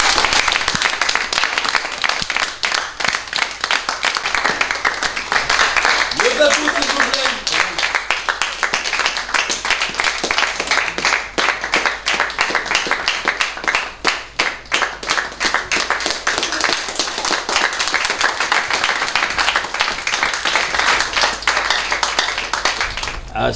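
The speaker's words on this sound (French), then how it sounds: "toujours sous vos applaudissements, assister à l'entrée de Monsieur le maire." A theatre audience at a French stage comedy applauds steadily and loudly for the whole stretch, dense clapping that swells and thins slightly, with a brief voice heard early on.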